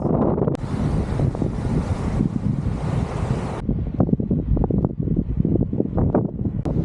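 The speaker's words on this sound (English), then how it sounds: "Incredibly windy." Strong wind at Cape Le Grand Beach buffets the microphone in a loud, continuous roar, with gusty rumbling and a hiss of surf underneath throughout.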